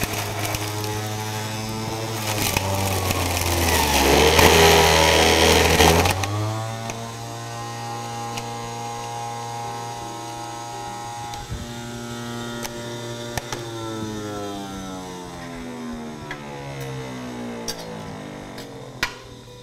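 A kitchen blender runs loud and close while blending kale and apple, its motor whining and sweeping in pitch as it surges early, then settling into a steadier, slightly wavering hum for the rest of the run.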